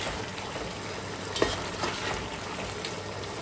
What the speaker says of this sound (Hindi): अब इसे थोड़ा भून लेंगे